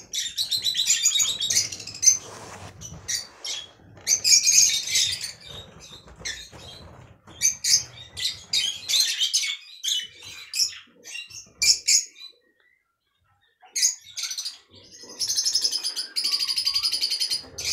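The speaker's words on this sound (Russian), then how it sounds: "Приветствуют меня своим щебетом звонким." Lovebirds and budgerigars in an aviary chirping in a dense, bright flock chorus of rapid high tweets and squeaks, nearby and lively, with a brief quiet pause before the chatter resumes.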